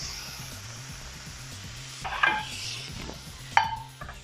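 Scallops sear in a hot pan with a continuous soft sizzle, broken by a couple of sharp metallic clinks of utensils against the pan, no voices.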